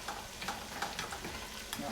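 A beef mixture is stirred in a cooking pot, a soft sizzle under repeated scraping and clinking strokes of a spoon at a fairly steady rhythm, quiet and close, with no talking.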